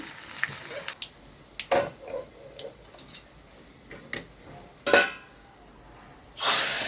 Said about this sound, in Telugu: తాలింపు బాగా ఫ్రై అవ్వాలి